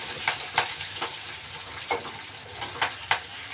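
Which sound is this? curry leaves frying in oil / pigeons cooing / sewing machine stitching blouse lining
curry leaves frying in oil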